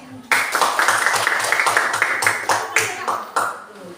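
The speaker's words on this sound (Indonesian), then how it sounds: "silakan dulu dari kelompok 1 beri tepuk tangannya dulu" Group applause in an Indonesian classroom discussion lesson, a dense burst of clapping that starts suddenly and carries on steadily with rhythmic accents, with voices underneath.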